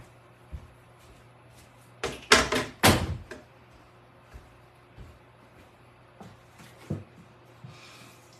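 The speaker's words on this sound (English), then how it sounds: "shut my door" A door that the wind had blown open is shut in a room, making a few close, sharp knocks and a thud in quick succession, followed by softer scattered clicks and taps.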